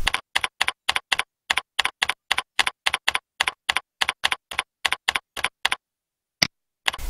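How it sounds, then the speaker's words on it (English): Keystrokes on a computer keyboard while entering an email address and security code, a quick steady run of close, crisp clicks, then a brief pause and two final isolated taps. "Type in the email address and security code that you gave when installing."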